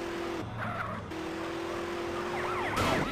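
A wailing emergency siren from an ambulance in the video game GTA San Andreas sweeps up and down near the end, following a steady tone amid traffic and car noise, with no talking.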